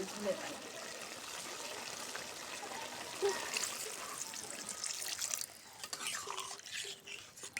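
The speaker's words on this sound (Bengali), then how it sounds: "পরিমাণ মতো ঝোলে পানি দেওয়া হলো" Water is poured into a simmering curry broth of small hilsa fish with cauliflower, beans and tomato, making a steady close trickle and splash that runs for several seconds before softening and breaking up near the end.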